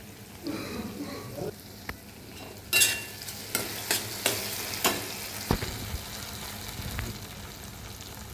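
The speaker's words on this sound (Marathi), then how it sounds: "कांदा, टोमॅटो, आलं, लसूण, जिरं, मोहरी, कढीपत्ता फोडणी केली। त्याच्यात भेंडी टाकते" Okra going into a hot tempering of onion, tomato, ginger, garlic, cumin, mustard seeds and curry leaves, a soft sizzle broken by several sharp spoon knocks and scrapes against the pan, close by.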